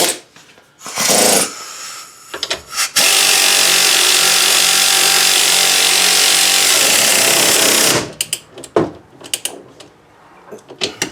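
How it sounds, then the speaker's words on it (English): An air ratchet runs up nuts on a Hyundai Elantra in a loud, continuous whir lasting about five seconds. Short clanks and bursts of tool noise come before and after it, close to the listener. "Hopefully they won't spin, and I can just tighten them on with the air ratchet that worked on the other side."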